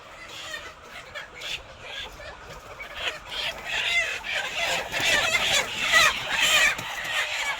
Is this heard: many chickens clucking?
yes